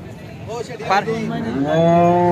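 A Holstein Friesian (HF) cow at a cattle market in Alephata lows close by, giving a couple of short moos that rise into a longer, drawn-out call.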